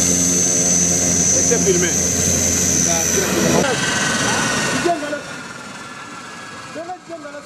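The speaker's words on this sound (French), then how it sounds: "on prend vol dans un ancien cargo russe Antonov 24" A loud, steady drone of an old Russian Antonov 24 cargo propeller aircraft engine with a high whine on top, easing slightly toward the end as muffled voices come through.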